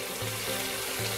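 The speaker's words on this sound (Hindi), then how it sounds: "तो अब हम इसमें पानी ऐड करेंगे" Water poured into a pot of oil-separated cooked spices for chicken kabsa, a steady broadband splashing and trickling hiss close by, running continuously without pause.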